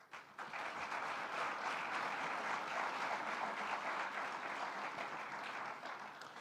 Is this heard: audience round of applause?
yes